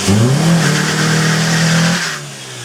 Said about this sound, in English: we'll try and peel a skid